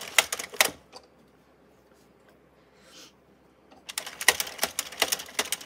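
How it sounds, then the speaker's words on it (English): An Addi knitting machine is cranked into motion, giving rapid bursts of loud mechanical clicking, a quiet pause in the middle, then the clatter resumes. "You hear the clicks. That's normal to get the machine kind of started."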